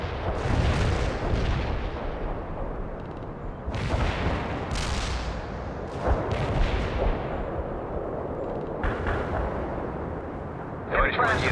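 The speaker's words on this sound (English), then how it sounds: "Artillery strike on the way." An artillery strike in World in Conflict pounds away with repeated heavy shell bursts and crackling gunfire at irregular intervals, forming a loud, sustained battlefield din with voices heard under it.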